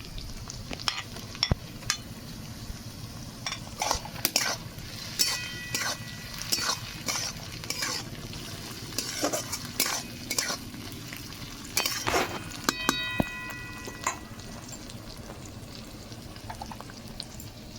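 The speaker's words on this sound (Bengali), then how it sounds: "পেঁয়াজ প্রায় হালকা ভাজা হয়ে আসছে এবার একটা আমি টমেটো ছোট করে কেটে নিয়েছি দিয়ে দেবো" Onion and chopped tomato sizzle in a pan under repeated stirring, with a low frying hiss broken by irregular scrapes and clattering knocks of the spoon against the pan.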